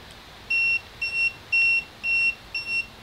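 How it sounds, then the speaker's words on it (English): An RV tire pressure monitoring system sounds its low-pressure alarm: five evenly spaced, clear electronic beeps at about two per second, close and moderately loud over a quiet background. "low pressure, fast leak, and it's giving me the alarm."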